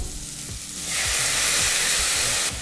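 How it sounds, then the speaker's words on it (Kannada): Onions and tomatoes sizzling in hot oil for a village-style sambar, a steady hiss that swells louder midway, with a few soft stirring knocks near the pan. "ಈಗ ಮತ್ತೆ ಈರುಳ್ಳಿ ಮತ್ತು ಟೊಮೊಟೊ ಹಣ್ಣನ್ನು ಹುರಿಬೇಕಾಗುತ್ತೆ"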